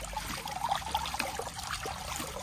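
Water pours and trickles into a bucket at a construction material test, a quiet steady splashing dribble with no talk.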